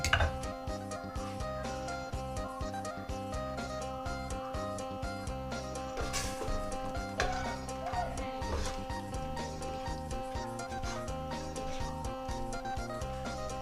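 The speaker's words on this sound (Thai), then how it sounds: "ผัดไปเรื่อยๆนะคะ ผัดไปเรื่อยๆ ผัดไปกะทิเลย" Metal utensils scrape and clatter steadily against a pan as pork belly is stir-fried in coconut milk, a continuous busy cooking rattle with faint sizzling underneath.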